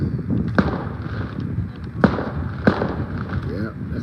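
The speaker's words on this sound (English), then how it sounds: "sounds more like a gun than it does firecrackers, fireworks." Fourth of July firecrackers and fireworks go off outside in three sharp, distant bangs spread over a few seconds, heard over a steady background rumble and voices.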